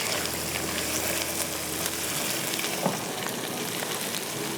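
Boiled mutton sizzles and fries steadily in a pot of oil while mutton pulao is being cooked, a constant loud crackle heard close up with occasional stirring scrapes and no talk.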